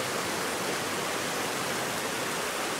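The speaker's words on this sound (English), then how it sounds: "Waterfall right here, undisclosed waterfall in Connecticut." Constant roaring rush of a waterfall in Connecticut, loud and unbroken, filling the whole clip with broadband noise.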